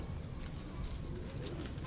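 Nahid Khan's pigeons cooing on a rooftop in Larkana, a soft, continuous murmur of coos under steady low background noise.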